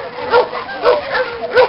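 A pet dog gives three short, close yips and barks, evenly spaced about half a second apart, with whimpery tones between them.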